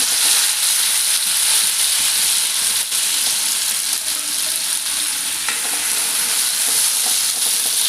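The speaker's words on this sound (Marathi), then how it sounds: "पेस्ट छान अशी तेल सुटेपर्यंत परतून घ्यायची आहे" Ground spice paste with mustard seeds and cumin frying in a generous ladle of oil over low heat for a prawn curry, a dense, loud, unbroken sizzling hiss with only faint stirring movements beneath it.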